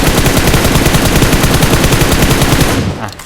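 Sustained automatic M4 rifle fire in PUBG Mobile, a rapid, evenly spaced burst of loud shots running for nearly three seconds before cutting off abruptly, with no voices.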